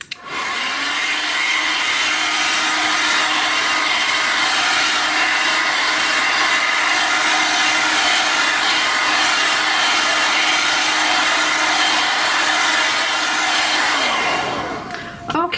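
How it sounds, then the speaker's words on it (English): A hair dryer blows on painted pinecones, roaring loud and close in a continuous whoosh for about fourteen seconds before it cuts off. "So be careful when you're blow drying."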